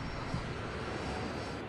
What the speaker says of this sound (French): Plus de 1200 avions empruntent ces pistes chaque jour.